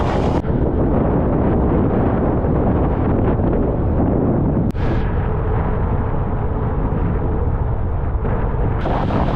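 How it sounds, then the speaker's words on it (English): Strong, steady wind buffeting the microphone while riding a bicycle into a headwind past a wind farm on a Southern Highlands gravel loop, a continuous loud roar throughout with a brief gust-like break midway. "Just hit the wind farm section, and unsurprisingly it's always a headwind"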